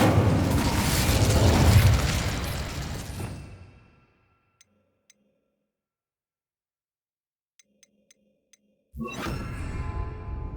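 An Incendio fire spell cast in Hogwarts Legacy: a loud roaring burst of flame that swells and fades out over a few seconds, followed by near silence with a few faint ticks, then another rushing fiery blast.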